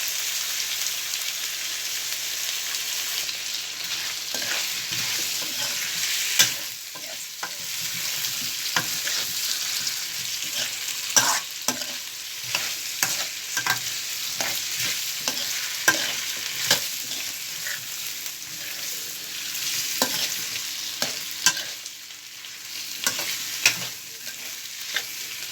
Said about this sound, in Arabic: هسيبها برضه تاخد تشويحه حلوه كده مع القوانص والبصل